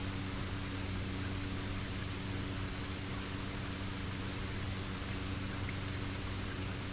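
Steady, even rain hiss from the Bleach: Rebirth of Souls video game fills the whole stretch without breaks, moderately quiet and unchanging, with no voices.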